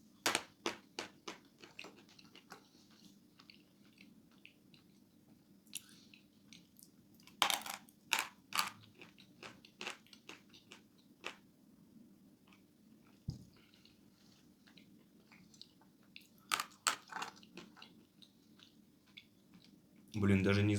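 Hard clay chalk (glinomel) is bitten and chewed close to the mic, with sharp crunchy snaps and bursts of gritty crushing, spaced out over quiet pauses and ending in a louder chewing flurry.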